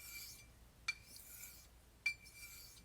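A Thiers-Issard Le Grelot straight razor with a snakewood handle is honed on a sharpening stone. It makes quiet, faint rasping strokes, with two sharp scraping accents over a soft background hiss.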